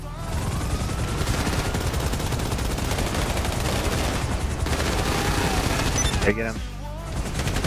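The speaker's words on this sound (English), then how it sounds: "Yeah, shoot these cops." Sustained gunfire from a shootout with police in GTA V Online, dense and constant throughout with voices talking over the shooting.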